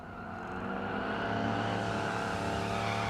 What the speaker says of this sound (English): Next pair doing their burnouts